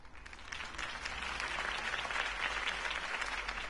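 A crowd applauds after Harvey Dent's campaign speech in the Batman Telltale video game, a dense, steady wash of clapping held at an even level throughout, with no voices.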